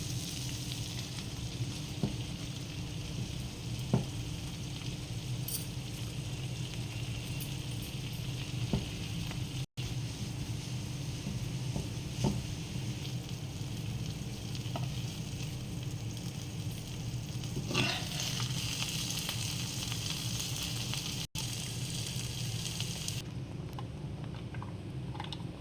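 Pav bhaji curry toasts in a pan with a steady, close crackling sizzle that runs throughout, dotted with occasional scraping and ticking from stirring.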